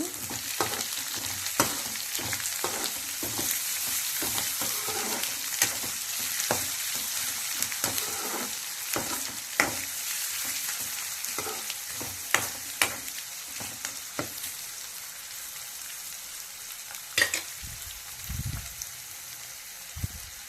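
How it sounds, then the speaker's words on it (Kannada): Green beans frying in a pan for a home-style lemon rice dish, a constant close sizzle broken by frequent clacking stirs and scrapes of a spoon, with no speech. "ಐದು ನಿಮಿಷ ಫುಲ್ಲು ಫ್ರೈ ಆಗಿದೆ."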